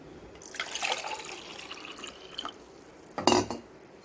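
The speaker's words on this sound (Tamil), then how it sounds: "இப்போ ஒன்றரை கப் அளவுக்கு தண்ணி சேர்த்துக்கலாம்" Water pours into a pan of sugar while a syrup for Diwali snacks is being made: a splashy trickle that rises and fades, then a brief louder gush near the end, close by and fairly quiet.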